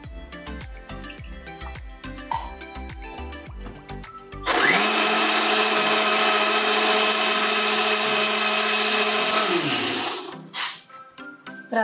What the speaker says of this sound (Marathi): तर आपण आता खोबरं आणि कांदा लसूण बारीक करून घेऊया।